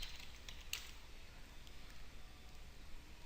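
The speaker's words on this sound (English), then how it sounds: "So let's just say if we typed in James," Typing on a computer keyboard while entering a name into a Microsoft Excel 2010 search box, a steady faint run of soft key clicks over a constant background hiss.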